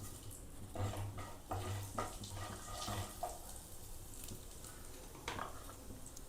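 Whole cumin seeds sizzle in hot oil left over from frying cauliflower for an egg curry, a faint steady crackle with a few soft stirring clinks.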